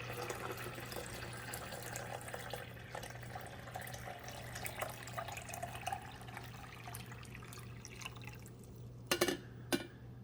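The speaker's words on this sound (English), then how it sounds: "Now you gotta pour this water in the back." Water pours into the reservoir of a Braun Aeromaster 10-cup coffee maker in a soft, steady trickle, ending with a couple of sharp plastic clicks.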